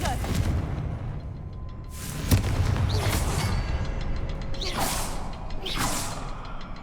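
Confringo fire spells cast in Hogwarts Legacy, several fiery whooshes, each swelling into a booming burst, with a sharp crack among them, loud and close over a rumbling game background.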